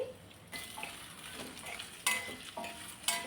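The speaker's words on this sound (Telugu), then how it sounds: "ఉల్లిపాయలు పచ్చిమిర్చి ముక్కల్ని వేసుకొని నేను ఫ్రై చేసుకుంటున్నాను" Chopped onions and green chillies frying in a pan, a soft steady sizzle broken by a few scraping stirs and light clinks of a utensil, quiet and close.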